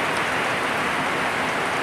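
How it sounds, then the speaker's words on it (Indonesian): Heavy rain pours steadily on an overcast day, a loud, dense, continuous hiss of drops striking surfaces close by, with no thunder and no voices. "Hari ini hujan, hujan mendung, hujan lebat."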